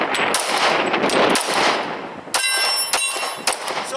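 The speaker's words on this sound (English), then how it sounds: "So that is the Glock 22 Gen 2 version." A Glock 22 Gen 2 handgun, a police trade-in, fires several sharp, loud shots in the second half, with ringing bangs after a noisier first stretch.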